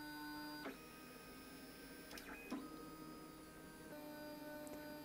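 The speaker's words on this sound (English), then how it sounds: "So the printer's now doing its auto nozzle cleaning on that little felt pad" A Lulzbot TAZ6 3D printer fitted with a large MOARstruder extruder runs its automatic nozzle-cleaning routine on a felt pad, producing a steady, quiet stepper-motor whine with several tonal shifts and a few soft clicks.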